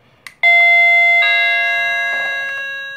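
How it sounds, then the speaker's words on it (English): A Hampton Bay wireless remote doorbell chime rings out loud and close, two bright bell-like tones sounding one after another and ringing on with a long, slowly fading sustain, after a faint click. "There's two remote doorbells I'm using for the demonstration."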